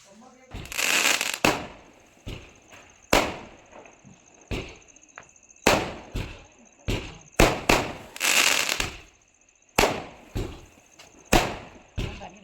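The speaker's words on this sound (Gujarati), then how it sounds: "ફટાકડા ફોડવાનું ચાલુ તો ચાલો દેખાડું" Firecrackers burst again and again in sharp, loud cracks at irregular intervals, some in quick clusters, with a steady high insect-like whine behind them.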